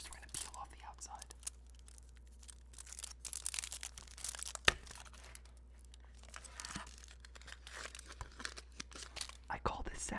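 Close, quiet crinkling and tearing of a chocolate bar wrapper being peeled off, irregular rustles and small crackles with a sharp snap midway, over soft background hum.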